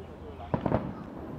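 Fireworks from Austria's entry at the Macau International Fireworks Display Contest, heard as a few quick distant bangs in a short cluster over crowd murmur and talk.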